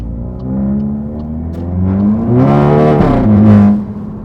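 Loud, close revving from a VW Mk8 Golf GTI with its OPF/GPF removed from the exhaust, the engine rising and falling in pitch through a couple of sustained blips with no talking.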